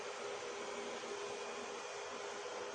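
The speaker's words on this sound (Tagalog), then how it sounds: "Normal na electric fan to guys." Small electric fan powered from a 2000W inverter gives a steady, even whir with a faint hum, close and continuous, with no voices.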